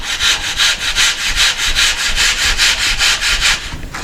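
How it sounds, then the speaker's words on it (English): Surform rasp scraping across drywall in steady back-and-forth strokes, about a dozen rhythmic rasping passes, close and loud with no talk. "I do have a Sureform. It's not exactly a drywall rasp, but it does the same thing."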